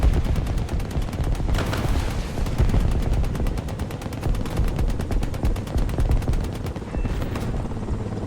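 Sustained rapid machine gun fire from a Ka-52 attack helicopter in War Thunder, a dense continuous rattle of shots over the low rumble of rotors, loud and close throughout with no talking.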